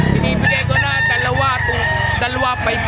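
A rooster crows loudly at a Saturday chicken market behind SM City Lipa in Batangas, its harmonic call stretching across the moment amid dense market bustle and nearby voices.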